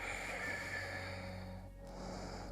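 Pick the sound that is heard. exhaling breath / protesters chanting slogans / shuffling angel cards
exhaling breath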